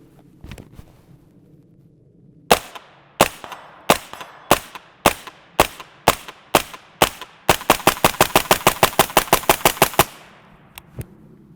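An Inter Ordnance AR-15 fitted with a sound suppressor fires close and loud: about nine evenly spaced sharp shots, then a quicker run of a dozen or more cracks in steady rhythm before it stops.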